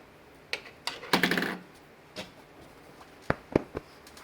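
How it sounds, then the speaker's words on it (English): Scissors snipping loose threads off a fabric pillow give a few quiet, sharp clicks and short rustles spaced irregularly, close and soft against a faint background. "And you just snip that little bit. Get rid of these loose threads."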